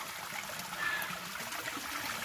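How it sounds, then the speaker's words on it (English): Water trickles and runs steadily in a shaded desert stream with small waterfalls in the Grand Canyon, a soft continuous babble close by with no voices. "Glorious sounds of running water in a desert that shouldn't have any of this here right now."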